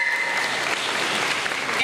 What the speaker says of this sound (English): Let's give these boys and girls for the Cultural Arts Awards a big round of applause.